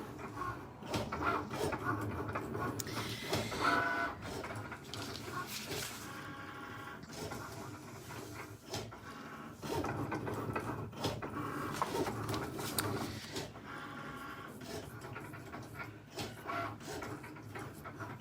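A Cricut cutting machine slices through thick card, a steady mechanical whir with repeated carriage shuttling and clicks, continuous and fairly close throughout with no talking.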